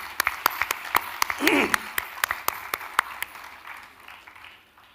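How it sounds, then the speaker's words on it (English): Scattered hand claps from a graduation ceremony audience at a convocation, sparse and uneven at first and thinning out over a few seconds, with a brief vocal sound partway through. "A big applause for your graduation today."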